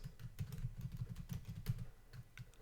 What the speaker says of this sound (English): If I type in the same password